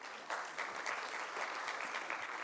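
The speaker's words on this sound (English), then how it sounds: "let's clap" An audience at a library event claps together in a soft, steady round of applause, slightly distant and without talk, lasting a couple of seconds.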